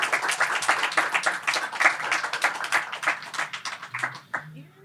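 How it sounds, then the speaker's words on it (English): Audience applause for two guests at a startup talk on building SQUATWOLF in Dubai, dense clapping from a crowd that fades toward the end, with voices mixed in. "Can I have a round of applause for these guys"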